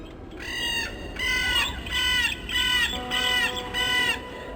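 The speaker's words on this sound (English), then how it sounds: "God, those birds are loud." In the video game Gothic II, crows caw in a series of about five harsh, repeated calls with even spacing, fairly close and loud over a soft ambient background.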